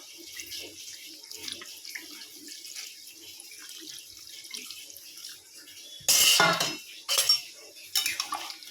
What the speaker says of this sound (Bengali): এবার একটু জল দিয়ে দেবো।